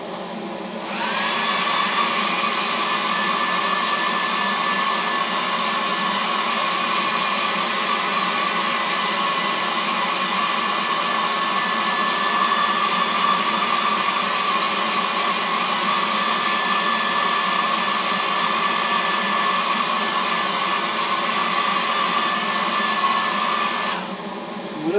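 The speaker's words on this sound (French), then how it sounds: "je vais mettre un petit coup de sèche-cheveux vite fait" A hair dryer blows steadily at close range drying water-based paint, a constant high whirring hiss that switches on, runs for about twenty seconds, then cuts off.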